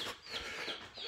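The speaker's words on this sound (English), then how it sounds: "Those are the new baby chicks from this week." Newly hatched baby chicks peep faintly in a batch, with thin high-pitched chirps repeating in short bursts at a distance and no talking.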